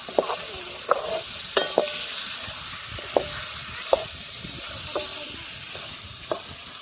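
Fish frying in a pan outdoors in the hills, with a steady sizzle broken by sharp clinks and scrapes of stirring at irregular intervals, with no one talking.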